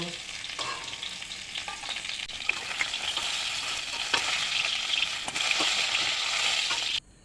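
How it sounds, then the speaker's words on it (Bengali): Rohu fish sizzling and crackling in hot oil, a steady bright hiss with occasional sharp pops, close by and without talk. "ভেজে নিচ্ছি আমার মাছটা"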